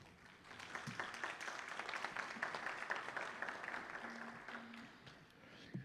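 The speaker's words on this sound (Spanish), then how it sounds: "Un fuerte aplauso" Applause at an artificial intelligence congress inauguration, a crowd clapping steadily throughout, dense and sustained at moderate loudness, tapering slightly near the end.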